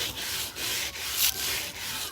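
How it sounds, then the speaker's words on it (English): A stiff-bristled nail brush scrubs across a Christmas ornament in quick, rhythmic back-and-forth strokes, close and dry with a rasping texture. "And I'm taking my scrubber."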